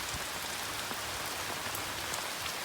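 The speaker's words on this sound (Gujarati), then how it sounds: "જો ભાઈ આવો વરસાદ પડે છે" Rain falls hard and constantly on a farm field, a loud, even wash of drops pattering on surfaces close by.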